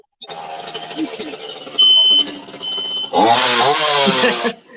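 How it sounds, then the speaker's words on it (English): An indoor fire alarm goes off with loud, harsh, shrill electronic tones in bursts, ending in a sustained blaring stretch. "He's fucking up the fucking fire alarm."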